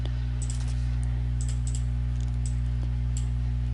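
Names are typed on a computer keyboard, giving sparse light key clicks in small clusters over a constant low electrical hum.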